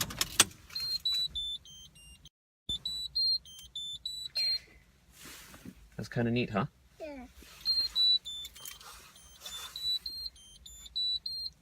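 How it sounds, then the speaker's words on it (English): An Evenflo Symphony car seat with SensorSafe sounds a reminder alarm, playing repeated bursts of high electronic beeping tones in a quiet car interior, with short gaps between them while people talk briefly. "we're ready to test out the car seat noise?"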